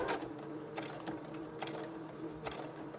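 A sewing machine stitches down the middle of fabric ruffles with a quiet, steady mechanical whir and regular clicking beats, heard alone.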